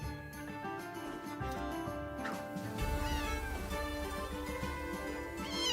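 Cat meows in a video game trailer, several drawn-out mews over a dense layer of music, fairly loud and close throughout.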